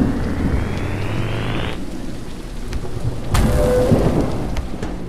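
Steady rain pours in the horror video game Horror Tales: The Beggar, with a low rumble of thunder underneath, then a sharp crack of thunder breaks in partway through.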